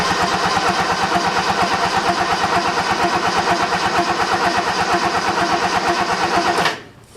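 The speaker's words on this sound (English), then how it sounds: "I'll just keep cranking it with choke, I suppose." A 1977 F10 engine cranks with the choke on, its starter churning in a steady, close, rapid rhythm for several seconds without catching, then cutting off abruptly near the end.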